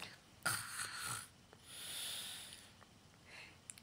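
A two-year-old child imitates snoring with a couple of breathy snorts followed by a softer drawn-out exhale, close and alone.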